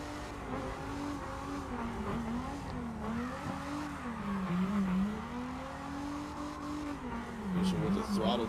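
A drift car in the CarX racing game holds a loud, steady engine drone with pitch that rises and dips under throttle control, running continuously from start to finish, with commentary talk over it.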